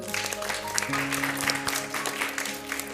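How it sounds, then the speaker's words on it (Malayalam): An audience gives a round of applause, a moderate steady clatter of many hands clapping throughout. "ഒരു ബിഗ് ക്ലാപ്പ് കൊടുത്തവർക്ക്."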